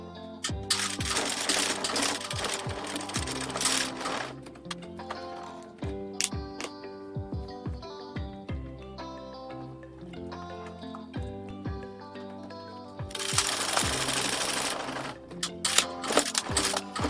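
Domestic sewing machine fitted with a zipper foot closing a small opening at the neckline and hem of a fully lined blouse, giving bursts of rapid mechanical stitching with short pauses between runs, close and fairly loud.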